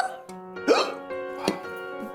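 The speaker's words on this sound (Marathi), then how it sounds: "उचकी लागलीये." Two sharp hiccups jolt out about a second apart, set against a tonal, voice-like background typical of a Marathi television serial.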